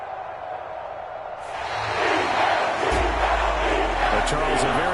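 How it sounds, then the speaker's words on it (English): Home crowd in a Madden football video game, Packers versus Eagles, swelling into loud sustained cheering and applause after a quieter start, with a deep low rumble joining partway through. "And the home crowd applauding."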